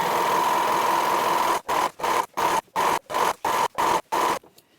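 A serger sewing fabric face masks whirs steadily, then runs in a string of short, even bursts with brief pauses between, ending in quiet; no voices.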